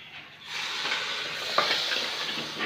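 Rice and nalli being stirred in a hot frying pan, a continuous sizzle with scraping stir strokes and one sharp click, with no talking.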